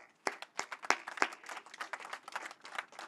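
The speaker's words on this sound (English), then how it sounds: "Let's give a round of applause for that." A fairly quiet, scattered round of clapping from the audience at a tax cuts tour stop in Centennial, Colorado, with a few sharp individual claps standing out over a softer patter.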